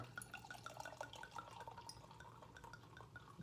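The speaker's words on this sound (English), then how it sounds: "the sound of pouring the glass" Stella Rosa wine is poured into a glass close to the microphone, giving quiet trickling and dripping with small glassy clinks over a low hum, soft and intimate.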